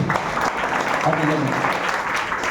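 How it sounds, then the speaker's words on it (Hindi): Applause from a seminar crowd welcoming leaders and achievers onto the stage, a steady dense patter heard under a loud voice speaking over it. "एक जोरदार ताली दोस्त"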